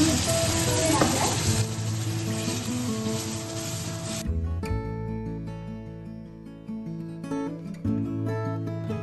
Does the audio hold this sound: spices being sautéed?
yes